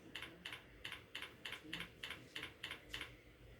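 Typing on a computer keyboard at a steady rhythm, about two keystroke bursts per second, each a crisp clatter of keys, close and fairly quiet over low background noise.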